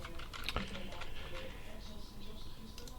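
Computer keyboard being shifted and typed on, with scattered soft clicks and a sharper knock early on, set against low room background.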